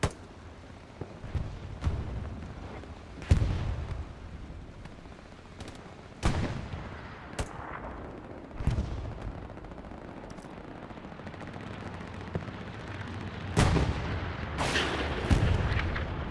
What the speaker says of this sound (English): Bombing run comes in from Commander Gemiel just as an insurance policy.